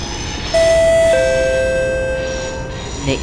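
In the OpenBVE train simulator, the door-closing chime sounds on a train on the North West Line: a loud, clear two-tone electronic ding-dong that rings out over a steady rumbling cabin drone.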